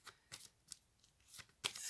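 Tarot cards are pulled from a deck in a few quick, soft papery swishes and flicks, close and quiet, separated by near silence.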